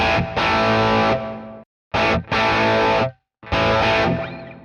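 An electric guitar runs through a Sonicake Matribox II Pro multi-effects unit with distortion, delay and reverb, giving loud sustained distorted chords in three bursts separated by brief silences, with echoing tails.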